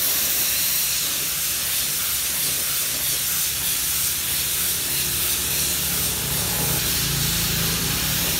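An aerosol can sprays grey primer onto a motorbike part in one continuous, loud, close hiss that stays steady throughout without pause.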